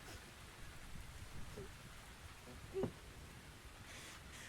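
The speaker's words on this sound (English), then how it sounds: "Could I persuade you to come out of the rain, Flora?" Rain falls steadily in the video game The Invisible Hours, a faint, even outdoor patter and hiss with a brief soft bump partway through, with no voices.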